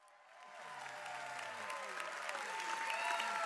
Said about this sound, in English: give them a round of applause, and say thank you, Pastor Gary and Drinda.